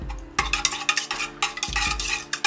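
Dry active yeast and sugar stirred into warm water with a spoon: a quick run of sharp, close clinks and scrapes against the bowl in two short bursts, with no voices.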